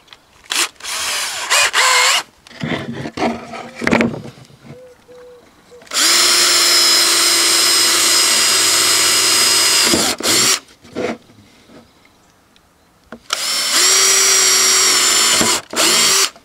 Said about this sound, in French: On va faire 2 petits trous ici de pré-perçage de façon à ne pas éclater le bois.